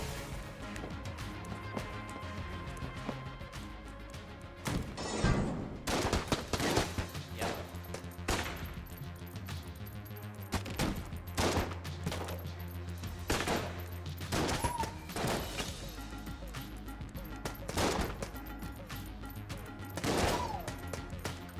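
Rapid gunfire with electrified shock rounds in the video game Enter the Gungeon, dense volleys of sharp shots crackling over a steady background of game music, with bursts packed tightly together and brief gaps between them.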